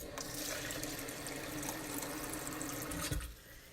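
Tap water runs steadily into an Instant Pot, a continuous hissing splash at close range that cuts off near the end.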